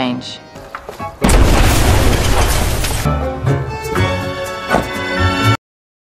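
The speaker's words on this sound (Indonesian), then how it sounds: "Hingga akhirnya supermarket itu pun meledak." A supermarket blows up from gas cylinders, a loud sudden boom followed by several seconds of roaring, crashing blast noise that swells and then cuts off abruptly.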